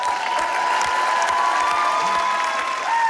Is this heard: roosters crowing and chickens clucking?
no